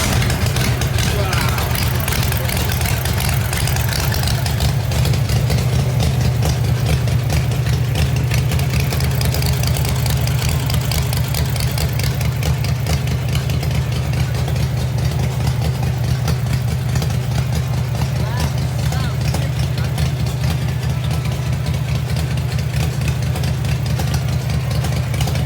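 A car engine fitted with Stromberg carburetors idles steadily and loudly for the whole stretch, a deep continuous rumble with a fine uneven patter riding on it.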